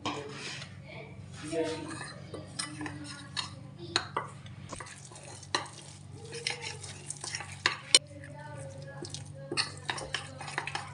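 Gram flour and spices are mixed into a batter in a bowl with a spoon, giving continuous close scraping and stirring with frequent metallic clinks against the bowl.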